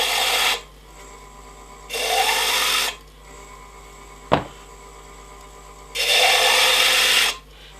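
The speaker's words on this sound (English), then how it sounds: "periodically I give it a clean down with one of these crate rubber blocks" Spinning sandpaper on a wood lathe being cleaned with a crepe rubber block gives three loud, sustained rasping bursts of about a second each, separated by quieter lathe hum, with one sharp knock in between.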